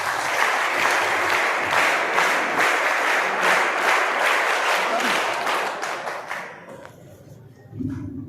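Audience applause at a gift presentation during a school event at Sainik School Supkheda, Washim: sustained, dense clapping from a large crowd for about six seconds, fading out into near quiet.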